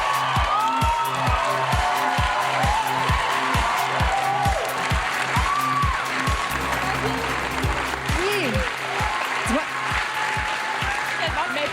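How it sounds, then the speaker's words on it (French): Audience applause on a TV gala stage of a reality show as the first contestant makes her entrance, sustained clapping and cheering under a steady rhythmic beat of music, with voices calling out briefly. "On applaudit Geneviève."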